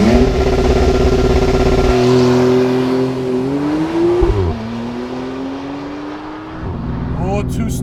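Launch control start in a 2017 Porsche 911 Carrera 4S PDK, with Sport Plus mode and traction off: a loud, steady held-revs engine drone from inside the cabin, then rising harmonics through quick gear shifts as the car pulls hard.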